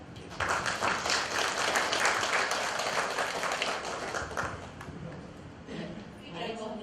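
An audience at a Seoul neighbourhood redevelopment residents' meeting claps in a dense burst that lasts several seconds and then thins out, with voices heard near the end.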